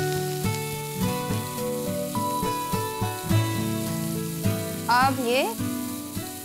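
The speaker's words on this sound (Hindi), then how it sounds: "इसके बाद इसको अच्छे से ब्राउन होने तक भूनेंगे" Chopped onion and ginger fry in a pan with a constant sizzle beneath louder tonal music, and a voice speaks briefly.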